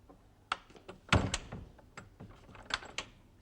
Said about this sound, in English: I'm shutting door.